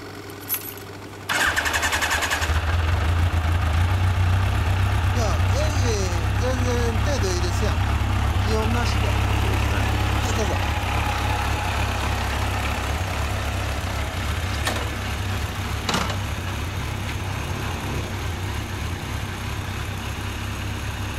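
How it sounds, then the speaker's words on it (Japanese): A Yamaha FJ1200 motorcycle engine starts and settles into a steady, loud idle, rumbling continuously up close with faint voices in the background. "エンジン音聞かせてもらえますか？"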